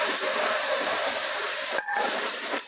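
Spice paste frying in hot oil, a loud, steady close sizzle and hiss broken by two short gaps, with no talk.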